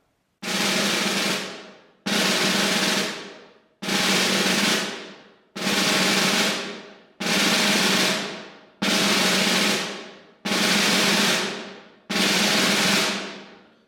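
A snare drum plays eight separate buzz rolls with smoothed accents, each about a second and a half long, starting loud and tapering away, evenly spaced and close.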